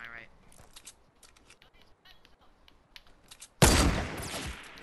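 Gunfire in a shooter video game: after a stretch of faint, scattered clicks and movement, a sudden loud burst of rapid shots erupts near the end and rings on briefly.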